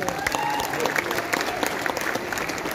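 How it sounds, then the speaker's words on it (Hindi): Dense, loud audience applause fills a business meet hall, a continuous wash of many hands clapping at once from start to finish, with some crowd murmur mixed in. "एक बार उनके लिए जोरदार तालियां हो जाए।"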